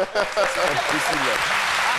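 Audience applause at a French live show, a dense, steady clapping roar close by for a couple of seconds, with a voice speaking over it.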